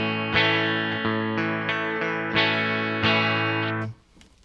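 Guitar strummed and picked through a Broughton OMNICOMP compressor pedal: sustained, evenly levelled chords with several soft pick attacks over about four seconds, then cut off and silent, no talking.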